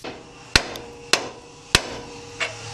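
Three sharp, ringing metal hammer blows on a Toyota 4Runner or Tacoma ball joint strike at an even pace, followed by a softer fourth tap, close up.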